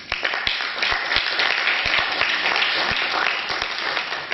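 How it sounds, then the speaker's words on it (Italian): Applause at the award ceremony of a violin competition, the Lipizer Prize, with many hands clapping in a steady, even spread for the whole stretch and no speech over it. "Facciamo un grande applauso."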